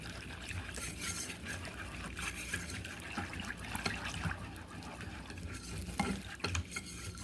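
Biscuit dough being stirred in a bowl after Nido milk powder and cold water go in, giving a steady, close scraping and wet churning texture that carries on throughout without any voices.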